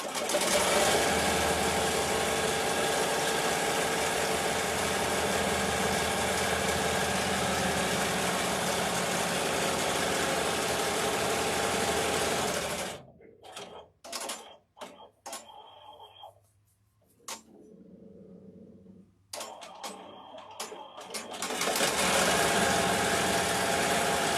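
An in-the-hoop embroidery machine stitches fabric for stuffed cow ears, running loud and continuous for about thirteen seconds, then stopping for a stretch of scattered clicks and handling noises before the steady stitching hum resumes.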